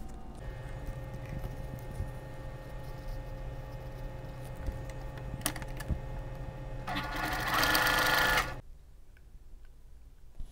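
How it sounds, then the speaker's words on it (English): A sewing machine stitching a quilted Christmas stocking cuff runs with a steady, fast mechanical whir and ticking, speeding into a louder burst near the end before stopping abruptly into quiet. "Now I'm going to sew the other side onto our cuff."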